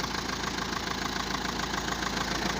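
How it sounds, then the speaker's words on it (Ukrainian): A tractor pulling a disc harrow through a field runs with a steady, continuous engine drone and rhythmic knocking pulse, heard alone without voices. "Трактор не підводить."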